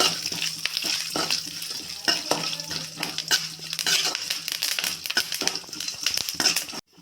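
Mustard seeds and curry leaves sizzle and crackle in hot oil for an upma, with steady frying hiss and repeated sharp clinks of a spoon stirring against the pan, close and fairly loud throughout before stopping abruptly at the end.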